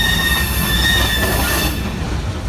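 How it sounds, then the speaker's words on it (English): BNSF freight train shoving southbound around a connection track toward the Kansas City Southern yard in Tupelo, Mississippi, with loud steady rumble, rolling car noise and sustained high wheel squeal that fades near the end. "shoving southbound around that connection track to the Kansas City Southern yard"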